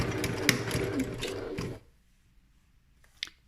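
A sewing machine stitching a tabbed zipper on a pencil case runs in a close, rapid mechanical chatter, stops abruptly, then gives one short sharp click as the needle catches the edge of a pin.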